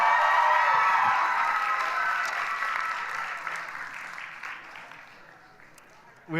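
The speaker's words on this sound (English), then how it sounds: "Can you guys give Mark one more round of applause too as well?" A church audience gives a round of applause with some cheering, loud clapping that gradually fades over several seconds before a voice cuts in at the end.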